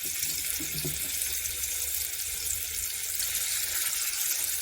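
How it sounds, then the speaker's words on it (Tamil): Tiny fish fry in hot oil on a large tawa, giving a steady, even hiss that fills the whole moment without pause, with a faint low rumble underneath and no talking. "இப்போ நம்ம இந்த குட்டி டின்னி ஃபிஷ்ஷை போட்டு பொரிச்சு எடுத்துருவோம்"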